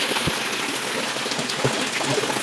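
Rain falling outdoors, a dense steady patter with a few heavier drops, close and continuous throughout.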